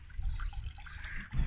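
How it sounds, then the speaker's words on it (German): Water splashing and trickling into a small pond made in an old manure pit, a soft continuous babble with gentle bubbling, close but quiet on a spring morning, with no talking. "Das Wasser plätschert."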